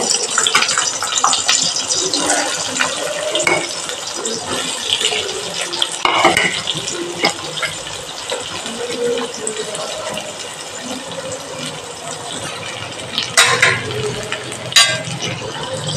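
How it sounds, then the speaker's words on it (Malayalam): Onions cook in coconut oil in a pan for chicken curry as a utensil stirs them, making close, repeated scraping and metallic clinks over a soft background hiss. "ഇനി നമുക്ക് വെളിച്ചെണ്ണ വെച്ചിട്ട് നമുക്ക് അതിലേക്ക് സവാള ഇട്ടാം."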